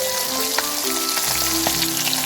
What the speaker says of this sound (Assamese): তাৰপিছত আৰু এতিয়া বিলাহী ইয়াতে দি ল'ম।